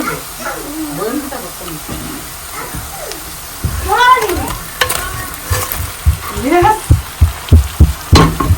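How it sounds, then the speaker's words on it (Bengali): Fish frying in a pan with a loud, close sizzle, while a cat meows repeatedly and voices talk over it. "মাছ ভাজা হচ্ছে"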